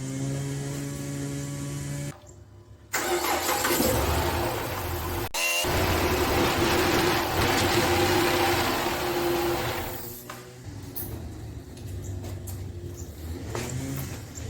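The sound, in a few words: Chrysler 300 engine starting and running after intake rebuild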